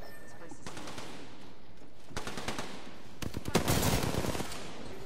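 Gunfire from a fight in a multiplayer shooter video game: scattered shots, then denser rapid bursts and volleys toward the end, heard at a moderate distance under a steady background.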